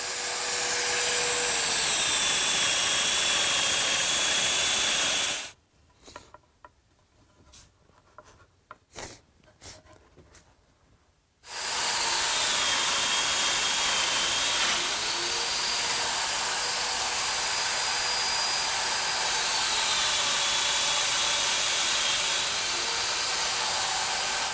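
Domino joiner cutting mortises in ash, two long steady high-pitched whines of the motor running for several seconds each, separated by a quieter gap filled with clicks and handling noises.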